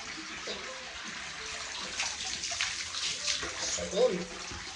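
Water runs steadily in a soft splashing hiss, close by, with occasional brief voice sounds and small knocks mixed in.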